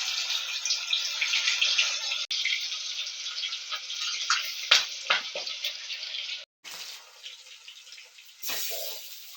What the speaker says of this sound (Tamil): எண்ணெய் காஞ்சிருச்சு. இப்போ மத்தி மீன் போட்டுக்கலாம்.